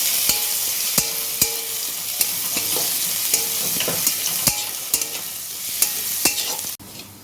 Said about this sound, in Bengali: এবার রসুনটা একটু ভেজে নেব, কাঁচা গন্ধটা বেরিয়ে যাওয়া পর্যন্ত।